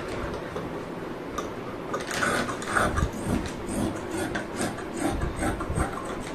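Scissors snip through kurti fabric at close range, giving soft crunching, rasping cuts in short irregular bursts over a steady low room hiss.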